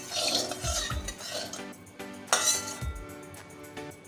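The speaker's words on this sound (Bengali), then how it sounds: "নুন দিয়ে ভালো করে তেলটাকে নেড়ে নেব।" A utensil stirring salt into hot mustard oil in a pan, heard as close scraping and clinking strokes of metal against the pan in an uneven rhythm, with no voices.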